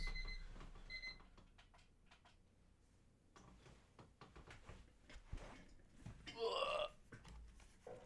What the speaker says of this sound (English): I had an alarm go off.